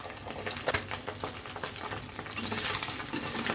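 An egg fries lightly in a pan with a soft, steady sizzle and a few stirring taps, quiet and close, growing slightly louder toward the end.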